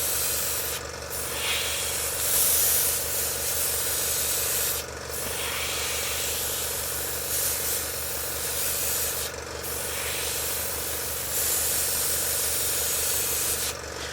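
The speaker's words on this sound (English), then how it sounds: "we're going to test it with this airbrush." A 0.3mm SG-100 airbrush spraying paint lines gives a continuous hiss with brief high bursts at the start of each stroke, alone and close.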